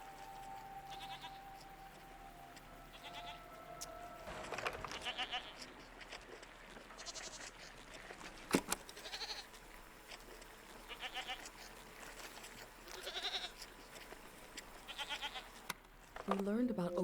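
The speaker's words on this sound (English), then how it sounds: "What are these strange goat-like creatures? Are they simply goats?" Goats bleat repeatedly over an outdoor soundscape, several short wavering cries spread across the span among other noises, with faint voices in the background.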